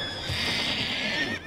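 A cartoon horse neighs in one sustained, bright whinny lasting over a second, loud and close with no talking, in an animated show about horses and show jumping.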